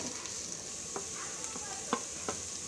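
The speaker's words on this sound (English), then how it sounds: "Now add 1 finely chopped onion. And mix it well until it turns slightly golden." Chopped onion sizzles in a pan, a steady soft hiss broken by a few light scrapes of a spoon stirring it, close and fairly quiet.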